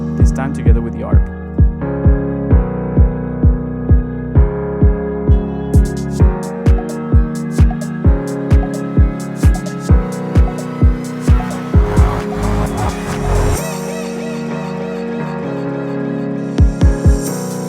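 Crisp electronic hi-hats tick in a steady, fast rhythm over a pulsing arpeggiated synth and punchy low beats, loud and upfront, with the texture thinning into a sparser ambient wash toward the end.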